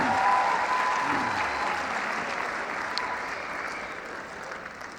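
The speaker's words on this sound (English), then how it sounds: "Give my daughter a round of applause." An audience breaks into applause for a speaker's daughter at a live event, loud dense clapping that starts strong and slowly tapers over several seconds.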